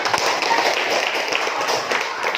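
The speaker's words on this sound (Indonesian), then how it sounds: "Iya, tepuk tangan." A classroom audience at a school anti-bullying event claps together, a dense, steady patter of many hands close by, with faint voices underneath.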